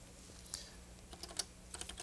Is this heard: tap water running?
no